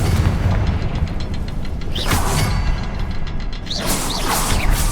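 In the Hogwarts Legacy game, a Confringo blasting spell sets off heavy, booming explosions. Two loud rumbling blasts come with whooshing debris over a constant low roar.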